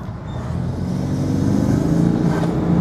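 A BMW F30 with the B48 engine and an Armaspeed air intake revs steadily and loudly nearby, its engine note building and holding for a few seconds with a growing intake rush.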